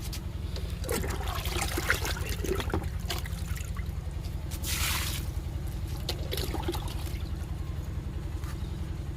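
Liquid plant fertilizer pours into a container in a garden, with a soft intermittent trickle and splash close by, faint and alone with no talking.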